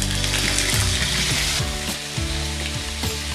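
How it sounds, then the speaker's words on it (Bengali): Ginger paste fries with tempering spices in oil for a vegetarian potato and pointed gourd curry, a dense steady sizzle with a low tonal hum and occasional soft stirring knocks. "আদাটা আমি একটু ভালো করে ভেজে নেব।"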